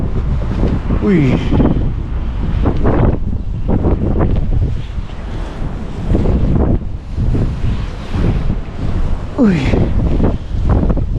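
Wind gusts steadily across the microphone at a seashore during shore fishing, with surf rumbling beneath and a man's short exclamations breaking through.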